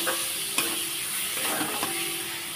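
Chhana (cottage cheese) stirred and fried in masala for potol chhana dalna, a soft steady sizzle punctuated by a few distinct spatula scrapes against the pan, close by with no talking.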